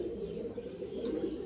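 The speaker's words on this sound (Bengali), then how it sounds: "দুটো নর পায়রা এখানে আছে।" Male Andhra pigeons coo softly in a steady, low murmur, close by and continuous through the moment, with no voices over it.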